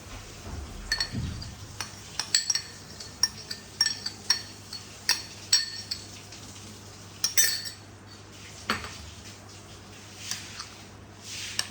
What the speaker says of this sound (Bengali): এবার আমি এটাকে মিক্সড করে নেব।